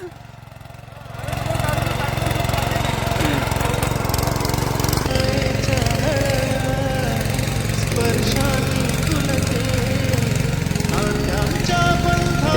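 A tractor engine runs steadily while sowing in a farm field, a loud continuous mechanical drone that starts after a brief quieter moment and holds at close range, with people talking under it.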